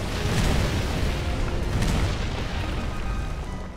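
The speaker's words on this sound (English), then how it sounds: "the third trial ends with a meteor and the boulder protects you from it" A massive meteor impact ending a boss trial in Final Fantasy XIV roars as a loud, sustained rumbling boom that fills the whole stretch with dense low-end noise and then eases off slightly at the end.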